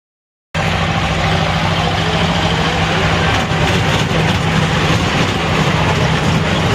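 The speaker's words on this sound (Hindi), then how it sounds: "बच्चों वाली ट्रेन जिसका टिकट प्राइस है 50 रुपये" A children's ride train at a Chhath Puja fair in Rajdhanwar rumbles steadily from close by, with a continuous mechanical drone and faint clacking over a busy outdoor background, starting abruptly after a brief silence.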